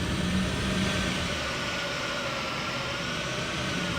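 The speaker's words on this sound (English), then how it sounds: "we're taxiing" Boeing 757 jet taxiing in the Prepar3D flight simulator, with a steady whining engine hum and broadband rumble that holds constant throughout.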